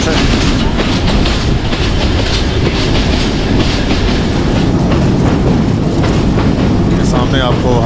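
The 267UP Rawalpindi Passenger train running from Rawalpindi toward Havelian in rain, a loud continuous rumble from inside the carriage with rhythmic wheel clatter throughout.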